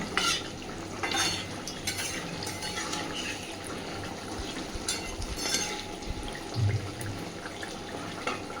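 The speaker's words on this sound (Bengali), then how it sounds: "মাছটা দেওয়ার পরে আরও 3-4 মিনিট ভালোভাবে ফুটিয়ে নেব।" Fish curry with potato and eggplant bubbles in a pan while being stirred, giving a steady wet simmer with occasional utensil scrapes and clinks, close and moderately loud, with no talking.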